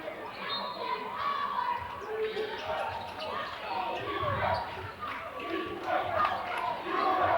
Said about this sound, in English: South Kitsap crowd getting into it a little bit with the defense chat